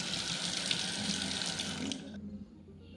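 Water runs steadily from a kitchen faucet into a farmhouse sink with a bright splashing hiss, then cuts off abruptly near the end.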